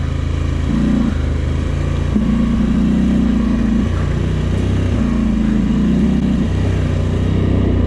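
A Polaris Sportsman 1000 XP ATV engine drones steadily and loudly on a steep hill climb, its pitch rising and falling slightly as the throttle and engine braking shift, with no talk over it.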